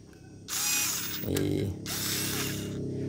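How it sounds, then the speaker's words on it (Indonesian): A small Deli mini battery drill buzzes in two bursts with a brief ratcheting clatter between them, close and moderately loud. "bor lucu keren kan ini coba bayangin nih daripada pakai obeng"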